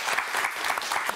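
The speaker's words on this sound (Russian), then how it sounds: "Аплодируем." An audience in a concert hall applauds a choir soloist and choirmaster, a short burst of dense, lively clapping at steady strength throughout.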